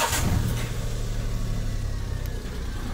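A vehicle engine fitted with a touch-sensor anti-theft starter catches at the start and then runs as a loud, steady, low rumbling hum with no voices.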